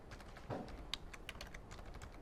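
Steady typing on a computer keyboard during a Java coding session, a quiet run of close, crisp key clicks with a few louder taps, no voices.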